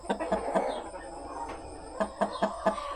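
Hens in a coop cluck in short bursts, a black hen perched on top of a brown one, with repeated close, sharp calls spaced irregularly across the moment and no talking.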